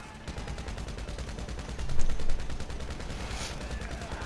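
Rapid automatic gunfire in Grand Theft Auto V during a heist, a fast sustained burst of shots rattling steadily, swelling louder midway, with no talk over it.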